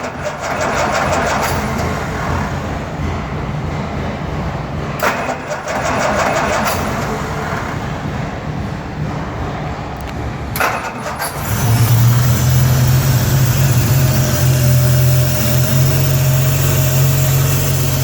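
A 1953 Jaguar XK 120 showing 34,504 miles cranks several times in short bursts, then catches and settles into a loud, steady idle close by.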